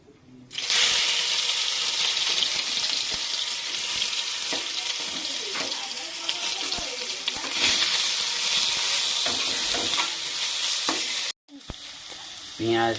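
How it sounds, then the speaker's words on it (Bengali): Whole garam masala spices frying in hot oil for a Bengali prawn malai curry, a loud steady sizzle with spattering crackles that drops off briefly near the end. "গরম মশলাটা গরম তেলেতে দেয়া হচ্ছে"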